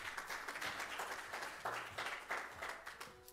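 A church congregation claps hands together in praise, a steady patter of many hands at moderate distance, fairly soft and continuous with no voices over it.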